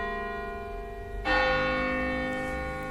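Church bells ring out loudly nearby, a sustained metallic tone swelling as a fresh strike lands partway through and lingers with long resonant decay.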